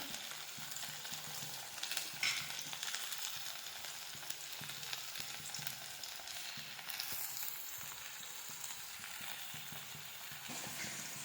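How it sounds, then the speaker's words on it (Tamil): Raw plantain slices deep fry in hot oil, giving a steady, close, fine crackling sizzle with occasional louder pops and stirring, continuing without speech. "இப்போ பார்த்தீங்கன்னா வாழைக்காய் நல்லா பொறிஞ்சு வந்துச்சுங்க"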